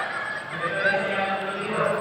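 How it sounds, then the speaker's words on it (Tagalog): A bird gives a goose-like honking call, a few brief calls heard at middle distance over steady background noise. "Ibon, oh."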